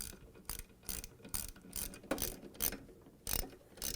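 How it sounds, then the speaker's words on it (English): A ratchet tightens 2 1/2-inch bolts on a Whirlpool/KitchenAid/Maytag washer transmission, giving rapid clicking bursts in repeated short strokes, close and clear with no talk. "secure it with 2 1/2-inch bolts"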